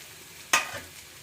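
Undrallu pieces stirred into poha in a pan: a single brief scrape of the spoon, quiet against a low background.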